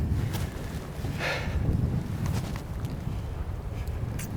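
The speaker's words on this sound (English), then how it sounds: "it's so windy and there's so much road noise out here" Strong wind buffets the microphone outdoors on a hillside during a spring turkey hunt in Tennessee, a steady broadband roar with distant road traffic hum blended underneath, continuous throughout with no speech.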